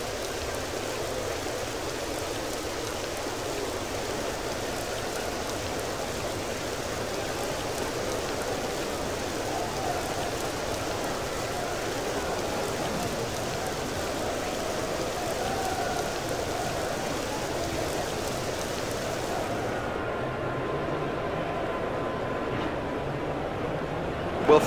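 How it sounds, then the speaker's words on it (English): Steady heavy rain in the video game EA Sports Cricket 07 pours down in a dense, continuous hiss that stays even throughout, with no voices. "The rain beginning to pour down."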